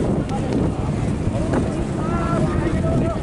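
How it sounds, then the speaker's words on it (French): Steady, loud wind buffeting a microphone outdoors on a square in Moscow, a continuous low roar that fills the whole stretch with only faint other sounds beneath it. "Et au moment où je commence à filmer, comme d'hab, c'est là où il y a le plus de vent."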